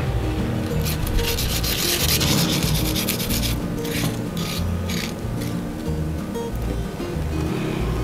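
Garlic is finely grated by hand on a grater, a steady loud scraping and rasping rub with quick repeated strokes running continuously throughout.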